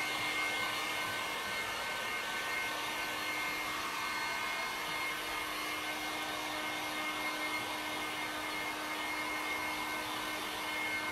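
A hair dryer blows steadily to dry paint on a craft molding piece, a constant close whirring drone with a faint tonal hum and no talking.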